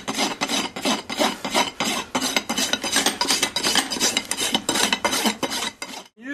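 A farrier's push gouge cuts a horse's hoof wall in quick, steady strokes, close and loud, a rapid series of rasping scrapes with brief gaps between them that stops abruptly near the end.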